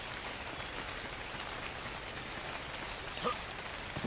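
Rain falls in the video game Ark Survival Evolved as a steady, quiet hiss of drops on the ground, soft and continuous with no talking.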